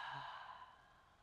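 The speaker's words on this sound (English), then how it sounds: "Full audible exhale out through the mouth." A single long audible exhale through the mouth during a yoga flow, a soft breathy sigh that begins fuller and trails off quietly.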